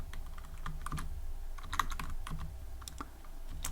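Rapid keystrokes on a computer keyboard while writing Python code, an uneven run of light clicks close to the mic over a low steady hum, with no one speaking.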